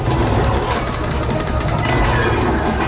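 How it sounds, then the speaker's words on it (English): A steady, loud low rumble of a train rolling on rails, continuous throughout with dense broadband noise, during the Smuggler's Run ride at Galaxy's Edge, Disneyland. "That is the train."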